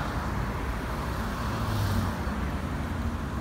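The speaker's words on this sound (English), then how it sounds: "Here even comes a school bus." A school bus travels along a city street at rush hour, its steady engine rumble blending into continuous traffic noise with cars moving quickly nearby; no one speaks.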